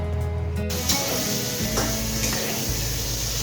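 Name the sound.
frying cut cabbage and potatoes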